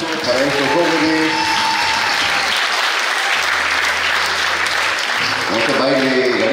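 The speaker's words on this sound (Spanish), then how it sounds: "aplausos para estos jóvenes" Audience at a nursing school anniversary ceremony giving loud, sustained applause for a group of young performers, with a speaker talking over the clapping at the beginning and end.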